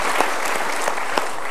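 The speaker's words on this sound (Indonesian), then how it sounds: "Kita berikan tepuk tangan." A short burst of dense applause, many hands clapping together, with a few sharper claps standing out.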